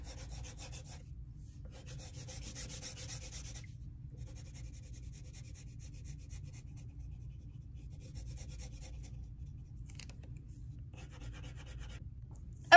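A colored pencil rubs back and forth across drawing paper in bursts of soft, close scratching strokes separated by quiet pauses.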